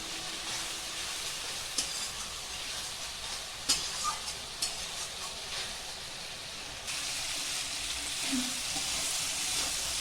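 Spices with peas sautéing in hot oil in a pan, a steady close sizzle and hiss broken by a few sharp stirring clinks and scrapes, with no voices.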